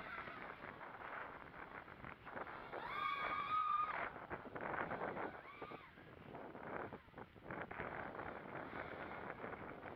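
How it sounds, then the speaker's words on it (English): Steady wind rushes and buffets outdoors, a continuous broad roar that swells and dips over several seconds. "It's pretty windy out here, too."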